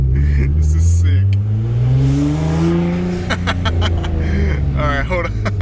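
A Nissan GT-R NISMO launches hard, its engine revving up in a long climbing pitch that holds loud and close, then easing off; an excited voice shouts over the engine noise.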